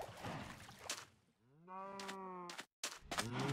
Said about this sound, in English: Go feed the cows.